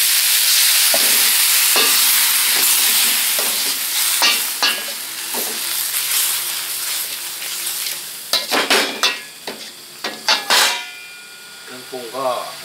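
Baby bok choy stir-fried in oyster sauce with a splash of water crackles in a hot pan, a steady sizzle broken by stirring scrapes and utensil clatter that grows busier toward the end, with a brief voice at the close.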